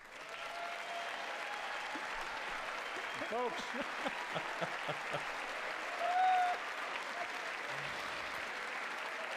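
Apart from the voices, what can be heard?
applause at State of the Union address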